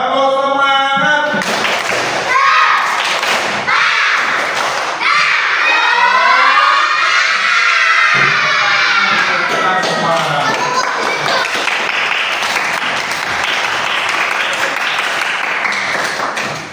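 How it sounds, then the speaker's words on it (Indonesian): Schoolchildren in an Indonesian primary school classroom doing the tepuk semangat clap chant, rhythmic group clapping mixed with loud shouted chanting voices that rise and fall over about sixteen seconds. "Tepuk semangat."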